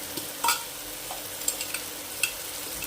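Cluster beans with turmeric, coriander powder, Khandeshi red chilli and homemade garam masala are stirred in a pan: a soft, steady scraping and shuffling with faint sizzling and a few sharper spoon knocks, no voices.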